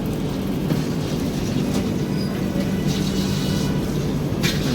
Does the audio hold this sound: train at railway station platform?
yes